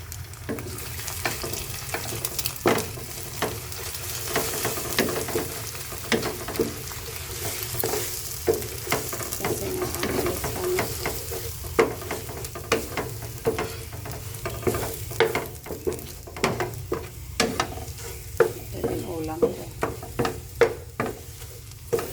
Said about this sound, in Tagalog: Tapos ngayon lagyan ko ng asin. Tapos haluin ko na.